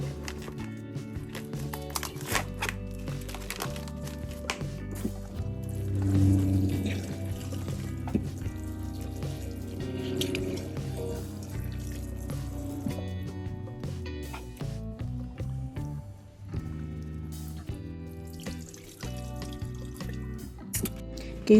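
Running tap water splashes continuously over raw chicken in a sink, with intermittent handling noises and no talking.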